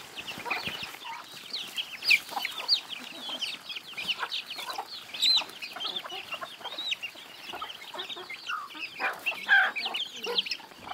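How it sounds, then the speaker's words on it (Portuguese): A flock of chickens clucks busily and continuously, overlapping calls coming from several birds close by, with no talking. "Meu Deus, mas aí tem galinha, ó."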